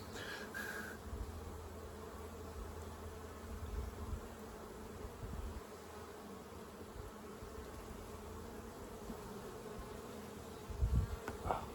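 Honey bees buzz steadily around an open hive during an inspection, a constant low drone close by, with occasional louder passes and faint handling knocks.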